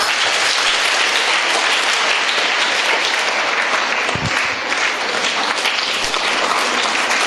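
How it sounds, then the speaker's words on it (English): Sustained applause from an audience at a school science quiz as students receive prizes, dense steady clapping filling the whole stretch at close range, with a brief low thump partway through. "When the students are receiving a prize, it is nice to clap."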